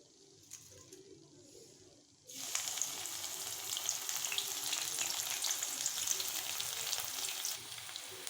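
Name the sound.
garlic frying in oil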